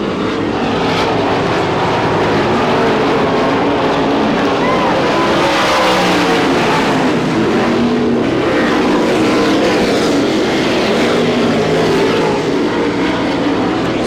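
IRA sprint cars race at Butler Motor Speedway, a loud continuous engine roar with rising and falling passes throughout.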